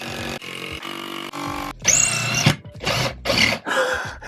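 A power drill whirs in a series of short, loud bursts into a ceiling, its motor pitch rising and dropping between pauses, close by.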